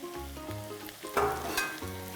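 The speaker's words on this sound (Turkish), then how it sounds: "Ardından yer elmalarını ilave ediyorum." Jerusalem artichokes tipped into a hot pan for a stew, with a sudden burst of sizzling and stirring that keeps frying steadily. Faint tonal background sound runs underneath, and no one speaks.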